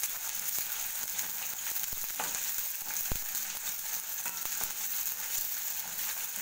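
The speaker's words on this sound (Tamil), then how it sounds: "வெங்காயம் போட்டு நல்லா வணக்கணும்" Chopped onions sautéing in hot oil after mustard seeds have popped, a steady soft sizzle and crackle with occasional sharp pops and stirring clicks, no talking.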